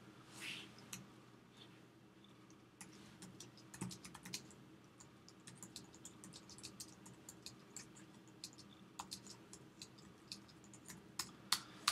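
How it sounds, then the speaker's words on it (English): Quiet, irregular clicks of typing on a computer keyboard, keys tapped in uneven bursts over a faint background hum. "I'm going to begin here by typing in some text."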